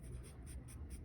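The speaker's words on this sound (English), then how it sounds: "I am using a darker graphite right now, but that's not necessary. You can use a regular pencil." Darker graphite pencil drawing eye details on paper, giving soft, close, steady scratching strokes in a quiet room with no talking.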